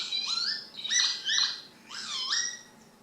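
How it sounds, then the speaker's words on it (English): Lapwing calls from a farmland field recording: three wheezy, rising-and-falling cries, each under a second, clear and fairly close against faint background hiss, with no other sounds. "for other birds like the lapwing"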